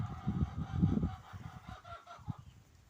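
A rooster near piglets on a farm gives rough, honking squawks up close, repeated in quick bursts over a few seconds and fading toward the end.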